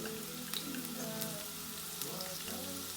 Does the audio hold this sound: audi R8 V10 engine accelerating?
no